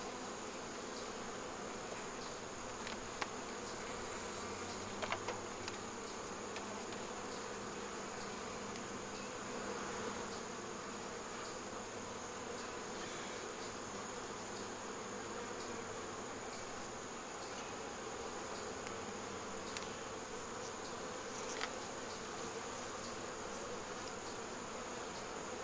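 Honeybees hum in a steady, dense drone from an open beehive during winter preparation, faint but continuous, with no talk over it.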